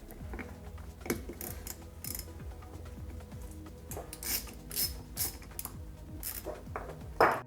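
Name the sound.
removing ignition bolts with a Torx bit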